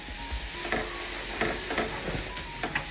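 Oats powder being stirred into boiling water in a pot: soft, faint scraping strokes of a spoon recur every half second or so over a quiet bubbling hiss.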